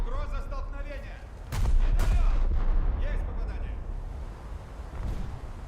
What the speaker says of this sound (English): There goes, I assume, a torpedo impact on the Murmansk